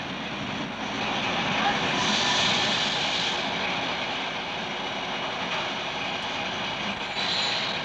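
Trains rolling past a railway underpass construction site in Ehingen in 1965, a steady broadband rumble and rattle of passing rail cars that swells slightly around the middle and continues throughout, with no clear speech over it.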